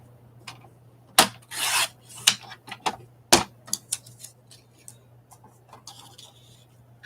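Scissors snip and rasp through paper cutouts being trimmed for a gluebook, in quick close bursts with short pauses and light rustling, against a faint low hum.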